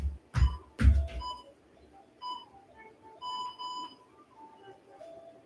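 Several short electronic beeps from a workout interval timer in a repeating pattern, fairly clear, following a couple of loud thumps near the start.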